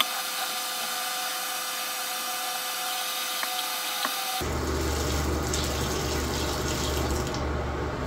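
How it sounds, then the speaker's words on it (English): Water is poured into the tank of a Prolux CTX Storm floor machine: quiet room tone first, then a loud, steady gush of filling water close by that keeps going to the end. "We're gonna add water to the tank."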